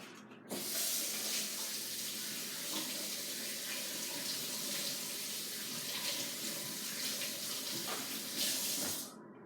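Water runs steadily from a faucet into a sink during handwashing, a close continuous splashing hiss that starts suddenly and cuts off after about nine seconds, with no talk.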